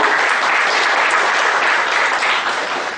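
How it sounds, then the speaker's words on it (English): Loud, sustained applause from a seminar audience at the inauguration of a one-day labour law seminar: dense, steady clapping filling the room without a break, with a faint murmur of voices mixed in. "Give me a big round of applause."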